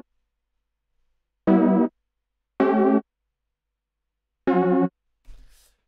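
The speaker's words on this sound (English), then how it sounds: "I laid down these chords from Omnisphere" Three sustained synthesizer chords from an Omnisphere Prophet 5 style patch, fat and slightly wobbling, each held about half a second with gaps between, alone and clear, followed by a short fading tail.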